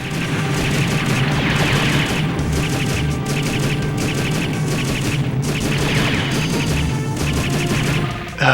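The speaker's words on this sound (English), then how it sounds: "Light missiles away!" Missiles launch and explode in the Robotech Battlecry video game, a dense, continuous barrage of crashing blasts and rapid bursts rolling on for several seconds with no talk.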